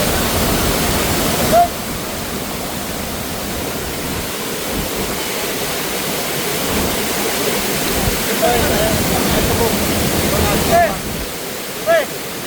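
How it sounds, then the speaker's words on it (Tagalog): A strong, steady rush of falling water fills the whole clip, loud and close, with a few faint voices and brief bumps over the roar. "Ito na po yung tubig, oh. Level 2 namin, yung malakas na tubig."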